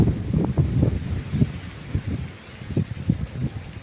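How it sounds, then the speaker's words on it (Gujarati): Cool wind gusts buffet the microphone outdoors, a steady rumbling whoosh with uneven low thumps rising and falling throughout, with no voices. "ઠંડો ઠંડો પવન થઈ ગયો છે"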